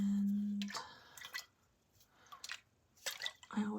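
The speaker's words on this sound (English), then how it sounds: "I always love water sounds." Water drips and splashes in a quiet ASMR recording, a few separate close droplet sounds spaced out with soft hiss between, and a low hum at the start and end.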